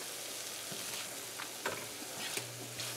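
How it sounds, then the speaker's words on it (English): Sweet zarda rice with added essence being stirred in a pan, a steady soft sizzle with scraping strokes and a few brief clinks of the spoon, close and alone. "Give that a good mix again."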